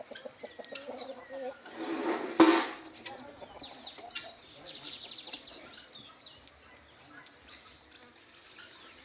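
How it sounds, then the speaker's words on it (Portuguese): Guinea fowl calling on a rural farm, a dense chorus of harsh, rapid clucking calls from a flock, with one loud burst near the start and steady chatter continuing throughout. "Mais uma quantidade de galinha da Angola lá."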